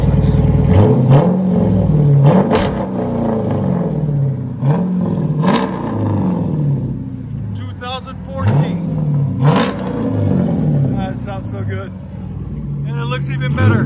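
A 2014 Dodge Charger R/T with a 5.7L HEMI and dual exhaust on Dynomax Race Bullets mufflers revs repeatedly, giving loud rising and falling blips over a deep idle rumble, with voices heard at times.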